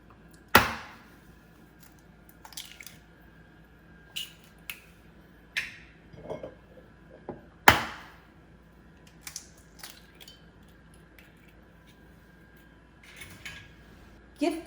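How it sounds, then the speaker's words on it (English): Eggs are cracked into a bowl, each one a sharp isolated crack or tap, a few scattered across a quiet room with small clinks and shuffles between them. "all you want to do is crack your eggs into a bowl"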